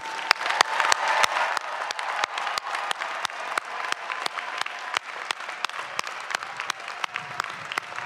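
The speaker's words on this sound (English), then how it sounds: "Please join me in congratulating the class of 2025 with a huge round of applause." A large commencement crowd in Carter-Finley Stadium applauds the class of 2025, a dense, sustained wash of clapping across an open field with sharp individual claps popping out, loud and steady throughout with no talk.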